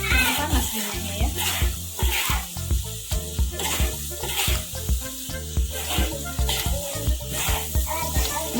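Spice paste sautéing in hot oil with turmeric leaves and lemongrass for jengkol rendang, a loud crackling sizzle broken by repeated clinks and scrapes of stirring, no talk.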